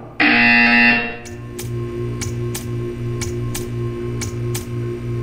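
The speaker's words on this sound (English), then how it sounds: "You will hear a buzzer. When you hear the buzzer, stare at the art." In the video game Portal 2, a harsh electronic buzzer blares for about a second, followed by a steady hum with faint regular ticking clicks.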